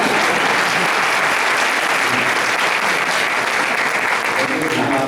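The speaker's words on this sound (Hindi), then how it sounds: "वो तालियां जहां बात अच्छी लगे अवश्य बजाते रहे" Sustained audience applause at a Hindi comic poetry gathering (hasya kavi sammelan), a dense, loud, steady clapping from a crowd that continues unbroken throughout.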